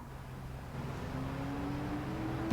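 A truck driving on a road in the Supernatural episode Route 666, a low engine drone that swells and grows louder over a couple of seconds as it approaches.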